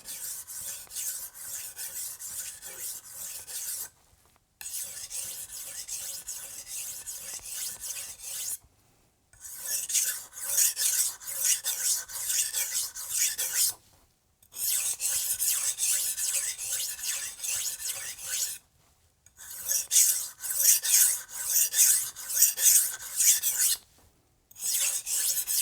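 A Wusthof Classic chef's knife is drawn across a sharpening stone in repeated rasping strokes. The strokes come in bursts of several seconds, separated by short silent pauses, and sound close and fairly loud with no speech.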